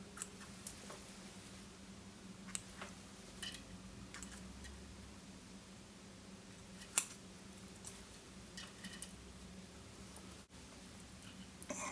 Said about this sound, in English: What we want for the wings is these long scissors